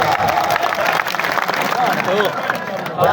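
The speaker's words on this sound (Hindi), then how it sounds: "चांद वास्ते जोरदार तालियां दो।" A crowd at a stadium sporting match claps and cheers loudly while someone talks excitedly over the noise and the din stays dense throughout.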